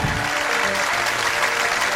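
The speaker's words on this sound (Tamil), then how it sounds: "உங்க கரகோஷத்துடன்" A live stage audience bursts into dense, continuous applause, loud and sustained throughout with no voices on top.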